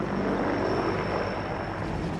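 An Mi-24 Hind helicopter gunship drones steadily overhead, a loud, dense continuous engine and rotor roar with no pauses or voices.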